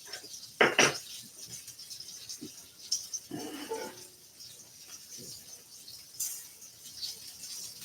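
Metal spatula scraping and clattering against a skillet as cooked onions are cleared out, a few sharp scrapes and knocks spaced over a quiet kitchen background.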